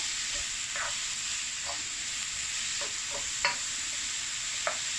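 Spring onions and baby button mushrooms being stir-fried for vegetable chow mein, a steady sizzling hiss with a few soft scraping stirs spaced through it.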